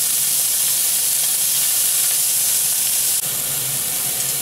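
Pancetta cooks in a pan over low heat with a steady, loud, even sizzle and hiss that holds without a break for several seconds.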